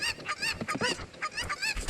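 A cucco chicken in The Legend of Zelda: Ocarina of Time 3D squawks in a steady run of loud, harsh, honking clucks that fill the whole moment, with no speech over them.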